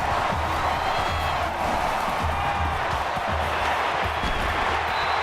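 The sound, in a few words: stadium crowd cheering in NCAA Football 14 video game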